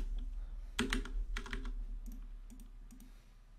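Keystrokes on a computer keyboard, a short burst of several quick clicks followed by a few sparser, lighter taps, heard close and quiet against a low steady hum.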